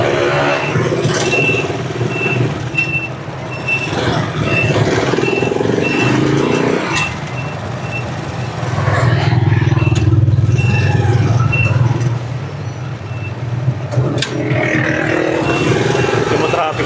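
Road traffic around a Rusi Chariot 175 motorcycle loaded with about 600 kilos of cargo, with a steady rumble of engines and vehicles, passing swells, and occasional high beeps, loud and continuous throughout.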